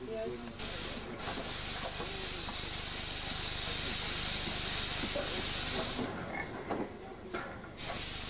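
A train arriving at Washford station hisses with a loud, continuous rush of steam or brakes, close by and steady for several seconds, with faint voices now and then.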